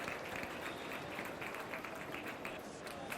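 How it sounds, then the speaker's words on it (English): A convention audience at MCM Comic Con London gives a round of applause at a live Star Wars panel, dense crowd clapping that holds steady and fairly loud for a few seconds with no talking. "Round of applause, please."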